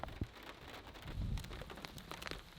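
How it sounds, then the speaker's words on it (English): Steady rain falls on an Irish outdoor setting around a stock Mazda MX-5 Miata NA drift car, a dense continuous patter with a few louder drops and a brief low rumble midway. "I don't reckon this rain's going to last"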